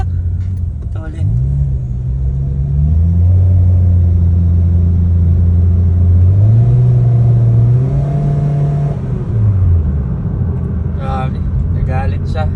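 A second-generation Honda Brio with an automatic CVT and an added throttle controller accelerates. A loud, steady engine drone rises in stepped pitch, holds, then drops near the end, with brief voices at the start and finish.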